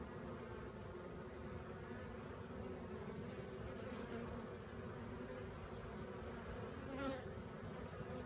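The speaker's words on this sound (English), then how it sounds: "Let's watch that bee." Honey bees at a swarm buzz in a steady, faint drone, with one louder bee passing close near the end.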